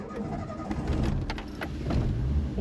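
A Renault 5 GT Turbo, a rare original hot hatch with a manual gearbox, idles with a little choke on just after starting, giving a steady, rough, close-up engine rumble.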